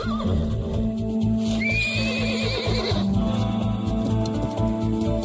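Cartoon pony neighing loudly and close, a long whinny with wavering pitch over a busy animated soundtrack, with hoof-like clip-clops mixed in; no talking.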